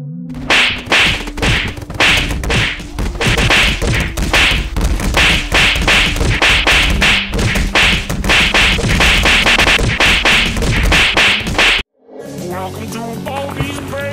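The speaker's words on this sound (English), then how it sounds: "Animate me slapping Baldi's basics." Cartoon slap effects for an animation of a Baldi's Basics game character being struck crack out in a rapid, relentless barrage of loud whip-like smacks, cutting off abruptly near the end before a brief different burst.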